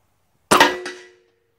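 A single sharp crack as an airgun fires a .357-caliber 120-grain steel-core bullet, followed almost at once by a second metallic clang from the target, both ringing out briefly and decaying within a fraction of a second.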